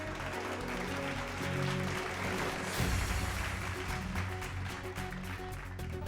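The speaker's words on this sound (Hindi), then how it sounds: "जोरदार तालियों से उनका स्वागत कीजिए।" A studio audience at the ETV Sales Ka Baazigar grand final welcomes Bhojpuri and Bollywood actor Ravi Kishan with applause. Steady, moderately loud clapping runs throughout over a sustained tonal backing, swelling briefly midway.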